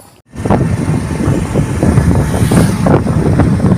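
Motorcycle ride along a winding ghat road in Goa: after a brief silent start, loud, steady wind buffets the microphone and roars continuously, with no clear engine note.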